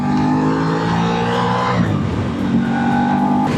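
A close, loud motorcycle engine revs on a highway, drops in pitch as it shifts gear, then climbs again while riding.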